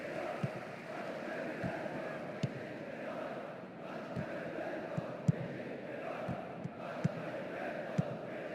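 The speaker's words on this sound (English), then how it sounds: "The rhythmic chanting of the crowd." Rhythmic chanting from a large stadium crowd in the football game PES 2010 during a Juventus match, a steady distant roar punctuated by regular soft thuds of clapping or drums.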